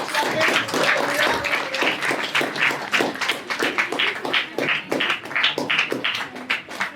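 An audience at a student certificate ceremony gives a girl hearty applause: continuous, brisk clapping from many hands, fairly close, tapering into looser claps toward the end.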